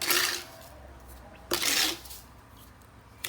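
Sugar tipped from small spoons into a pot of peach juice with water: two short, close, gritty scraping pours with faint metal clinks, about a second and a half apart, each trailing off into quiet.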